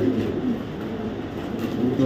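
An oversized, light-coloured Netherlands pigeon coos in low, rolling bursts at close range at a pigeon club, steady and unbroken with no talk over it.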